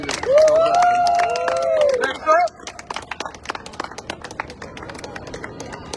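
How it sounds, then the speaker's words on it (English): A crowd at a housing rights coalition rally in East New York claps and cheers, a dense burst of applause with shouts that fades into scattered claps while a voice speaks over the start. "Clap it up again."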